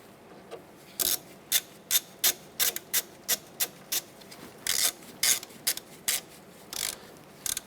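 Bolts being snugged down with a ratchet on the driver-side suspension knuckle bracket of a 2008–2012 Honda Accord, about a dozen short clicking bursts in an uneven rhythm, close and fairly loud, with no talk.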